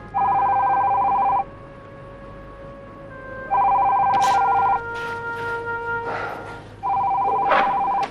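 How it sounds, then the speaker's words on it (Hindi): A telephone rings indoors in three loud, even bursts separated by pauses, with a faint background hum and a few brief clicks between rings. "देखिए दो किसका फोन है?"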